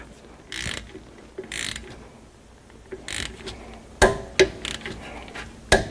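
A torque wrench ratchets on a 12mm front brake caliper bolt of a Honda Accord, set to 25 foot-pounds. Short bursts of clicking are followed by sharper, louder clacks near the end, all close up.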